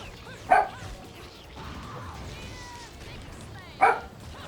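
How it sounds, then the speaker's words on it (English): A pet dog shut in a room indoors lets out two sharp, loud barks a few seconds apart, with quieter whimpering and background game sounds between them. "My dog got mad."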